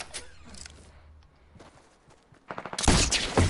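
SMG gunfire in the video game Fortnite, with scattered lighter shots and clicks, then a dense, loud burst of rapid fire near the end.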